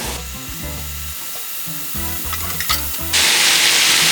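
Ground lamb fries in a pan with a steady sizzle and scraping stirs, rising to a louder, fuller hiss near the end.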